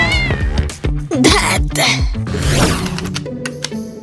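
Kittens meow loudly and close by, in repeated high, drawn-out cries that overlap with thumps and other busy sounds.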